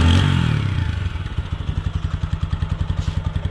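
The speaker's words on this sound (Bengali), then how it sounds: "এক্সস্টের সাউন্ড।" Exhaust of a TVS Apache 160 4V motorcycle, heard close up: a brief louder burst fades into a steady, rapid, evenly pulsing idle thump from the pipe.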